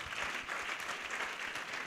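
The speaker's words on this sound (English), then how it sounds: "Let's clap for Jesus Christ." A church congregation claps together during a worship service, a brief, even burst of many hands with a slightly rhythmic patter that stays moderately loud throughout.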